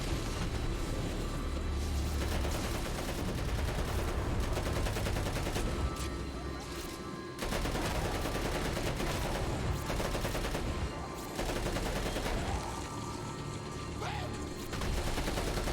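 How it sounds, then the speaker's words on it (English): Cluster grenades burst in rapid, overlapping blasts in the open-world action game Crackdown 2. Constant gunfire and a few short drops in the din run throughout, and voices can be heard in places. "those cluster grenades seem to do good work"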